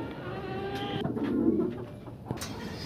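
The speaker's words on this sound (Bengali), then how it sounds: "মাল্টেস কবুতর অ্যান্ডালুজিয়ান কালারের ভিতরে পাবেন আজকে 2 জোড়া" Maltese pigeons in Andalusian colouring give soft, low cooing calls nearby, a short rolling coo rising and fading over a quiet background with a few faint rustles.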